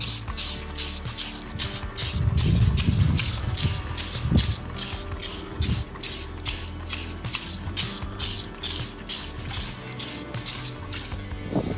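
A quick run of sharp pumps from a motorcycle cleaning spray bottle with a foam nozzle cap, about twenty evenly spaced bursts, close by, with faint clicks of the trigger mechanism underneath.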